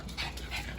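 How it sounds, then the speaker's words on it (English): Dog panting in quick soft breaths, heard close and fairly faint for under a second, with no talk. "this is my grandbaby dog"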